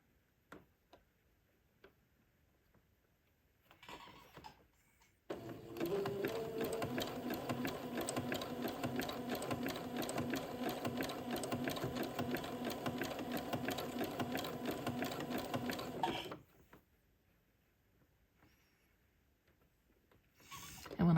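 A sewing machine stitches gathers along entredeux on a garment in one loud, steady run of rapid ticking lasting about eleven seconds, with quiet handling noises before and after.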